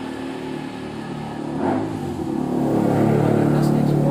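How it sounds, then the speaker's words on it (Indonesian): Motorbikes passing close by on a street, a steady mid-pitched engine drone that swells louder toward the end as one revs past. "banyak motor ya"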